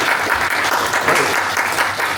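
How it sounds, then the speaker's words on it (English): Loud, dense applause fills the room for a comics writer introduced on a comic convention panel, continuous and close. "Round of applause, please,"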